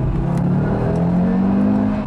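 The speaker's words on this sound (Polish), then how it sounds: "Reakcja na kickdown w trybie auto." A 2022 Audi RS3 with a 400 hp 2.5 TFSI engine revs up under kickdown acceleration in auto mode, its droning pitch climbing steadily, heard from inside the car.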